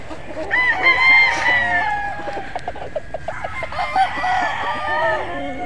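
A Boston Gilmore gamefowl rooster crows loudly and close by, one drawn-out cock-a-doodle-doo followed by clucking, with faint talk in the background.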